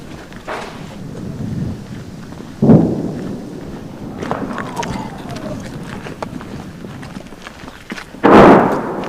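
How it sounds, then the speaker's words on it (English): Russian artillery barrage on an eastern Ukraine front line: two heavy booming blasts, one near three seconds and a louder one near eight seconds, with faint rumble and scattered noises between them. "Above, a Russian barrage is the signal."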